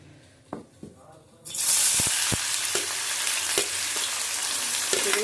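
Five or six small chopped onions hit hot oil in a pan and burst into a loud, steady frying hiss that fills the rest, after a few quiet clinks before they go in.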